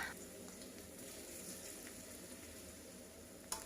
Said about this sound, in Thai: นำเห็ดหอมค่อยๆเจียวกับน้ำมันนะคะ